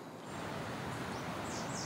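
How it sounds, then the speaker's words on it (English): Wind rushing through leaves in a Siberian forest, a continuous loud rustling hiss that rises after a brief quieter start. "Listen to that wind."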